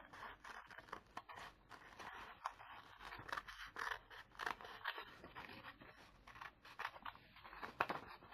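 Scissors snip and scrape steadily through a traced pattern piece, faint and close, with irregular crunchy cuts and no talking.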